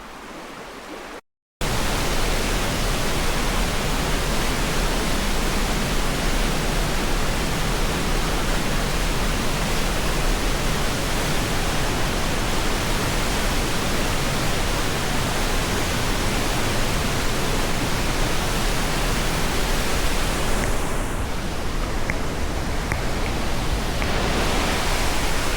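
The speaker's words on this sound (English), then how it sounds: "You should be able to hear it now. Thundering Falls." Thundering Falls roars as a steady, loud broadband rush of falling water that fills the whole stretch without a break, with only a short gap of quieter sound at the very start.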